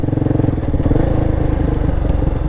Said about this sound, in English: A night ride on a KTM Duke 390.